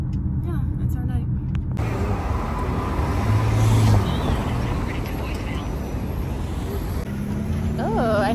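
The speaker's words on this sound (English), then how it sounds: "Now we're on our way to go pick up Michelle in an Uber" Interior road noise of a car on an Uber ride through New York City at night, a steady rumbling drone with brief electronic beeps near the start and end.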